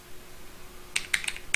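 After a quiet stretch with a faint steady hum, a computer keyboard clatters with a quick burst of several crisp keystrokes as Java code is typed, close and clear with no talking.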